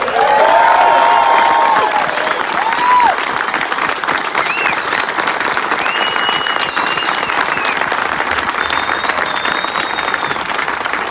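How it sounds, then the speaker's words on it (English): A crowd applauds and cheers loudly and continuously at a welcome-home ceremony for veterans, with a few high shouts and whistles rising above the dense clapping early on. "let's just put our hands together and clap and yell as loud as we can for John."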